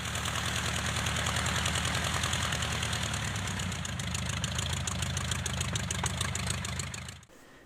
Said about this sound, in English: this is a high and low idle in the real aircraft